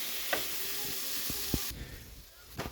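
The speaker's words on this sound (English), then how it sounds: "this is frying up really good." Frozen ground sausage sizzles and spits loudly in a hot pan for a breakfast casserole. A steady close frying hiss is broken by a few sharp scraping stirs, and the sizzle drops off partway through.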